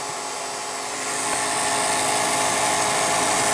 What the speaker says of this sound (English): It's the motor that's making all the noise now.